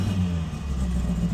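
A cold Ford Fiesta Mk1 engine idles on choke with a steady low, slightly uneven rumble, close and unbroken.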